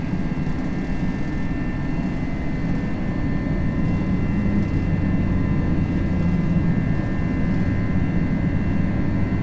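Jet engines of an A321 in a flight simulator game roar steadily at climb power just after takeoff at night, a loud continuous low rumble with a faint whine, no talk over it.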